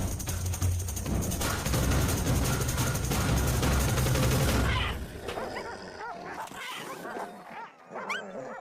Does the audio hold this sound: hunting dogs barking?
yes